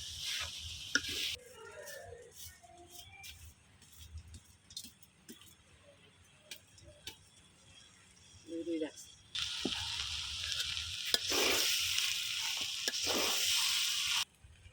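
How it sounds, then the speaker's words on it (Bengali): Potatoes and carrots frying in a pan for beef bhuna khichuri, starting with quiet clicks and scattered taps, then a loud burst of close sizzling that swells and fades, with brief talk in between. "আমি তো আলু আর গাজরটা ভাজা নিচ্ছি"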